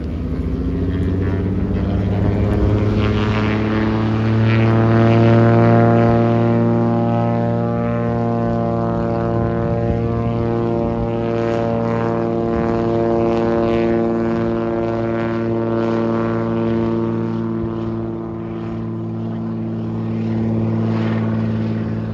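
A propeller aircraft takes off, its engine a loud, steady droning hum with strong tonal harmonics that swells and eases slightly across the whole stretch, near and dominant with no talk.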